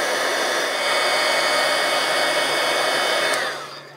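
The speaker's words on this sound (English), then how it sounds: "I'm going to take our heat emboss tool and heat that." A heat embossing tool blasting hot air over embossing powder on a card, a loud steady close whir that runs for a few seconds and then winds down, with no voices.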